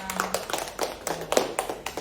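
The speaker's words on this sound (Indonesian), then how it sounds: "silakan tepuk tangan untuk kita semuanya" A small group of people in a classroom or workshop setting clap their hands, several distinct uneven bursts of claps close by, fairly quiet and without talk.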